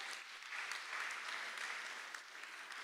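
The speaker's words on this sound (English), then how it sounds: "please give a warm round of applause for these three colleagues" An audience applauds panel speakers at an AI neural networks talk, a steady, even round of clapping from many hands, fairly faint and heard alone.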